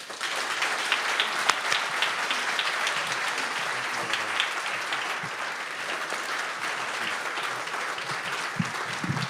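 An audience applauds steadily in a hall to welcome Judge Roy Altman, the clapping loud, dense and sustained from start to finish with no talk over it.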